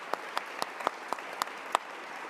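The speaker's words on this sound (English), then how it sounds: "Please, a round of applause for the panel." Light, sparse applause from a small audience thanking a conference panel: about seven separate, fairly faint claps spread over a couple of seconds against a quiet room.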